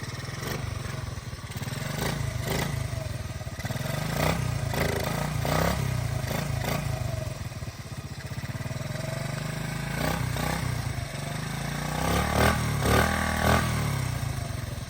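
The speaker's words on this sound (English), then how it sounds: "So Jace, just rev it up a little bit and get that choke off" A Honda dirt bike engine, just cold-started after sitting nearly two years, revs in repeated bursts over a rough idle with clattering, fairly close.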